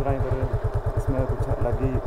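A Suzuki Intruder 150cc motorcycle idles nearby with a steady, rapid low thumping pulse. The engine runs continuously and loudly throughout, with faint background voices.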